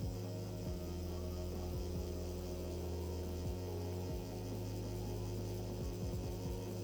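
A tattoo machine packing colour hums steadily and close, a continuous buzzing drone with faint clicks running through without a break.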